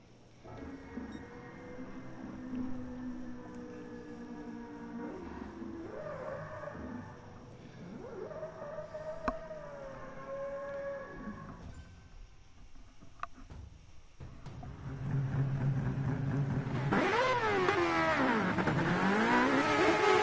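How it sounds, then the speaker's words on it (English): Mazda 787 race cars in the video game GT Sport scream through the gears, engine notes climbing and dropping in long revving sweeps, then a louder, harsher stretch of hard acceleration near the end, with no talking. "Sound of these cars, pretty amazing. We are driving with the Mazdas"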